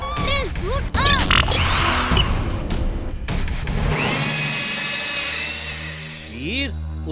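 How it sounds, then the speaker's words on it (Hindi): A cartoon robot boy's drill suit switches on amid action effects: quick whooshes, clanks and a smash give way to a rising, high mechanical whir that holds steady, with synthetic sweeps near the end and speech mixed in. "drill suit on"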